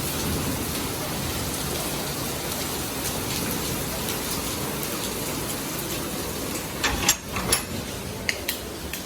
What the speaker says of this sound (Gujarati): જો ફૂલ વરસાદ ચાલુ થઈ ગયો. વીજળી પણ થાય છે અને ગાજે છે.